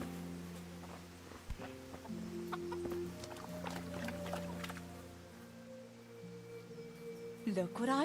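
Hens clucking on a farm in Kingdom Come, short scattered clucks and squawks over a steady low ambient hum, moderately close, with a louder fluttering call near the end.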